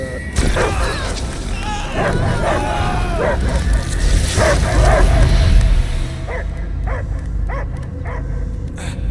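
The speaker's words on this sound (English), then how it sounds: "I hear only barking." A dog barks and whimpers amid booming, busy game effects and voices in the video game Marvel's Guardians of the Galaxy, the barks loud and repeated before the scene quiets.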